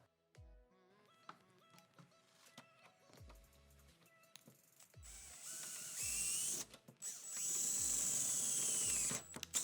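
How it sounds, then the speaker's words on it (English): A power drill whirs in short bursts, then runs long and high-pitched as it bites through the sheet-metal inner door skin of a Nissan Cube Z11, with clunks of tools in between. "the next step is to drill through the inner door skin on the car"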